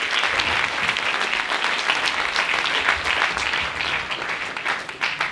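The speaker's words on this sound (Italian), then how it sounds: "Ancora un grande applauso a Rita Micchiotti." Audience applause at a Christmas eve music, dance and theatre show, a full crowd clapping steadily and loudly, sustained without a break and slightly uneven in strength.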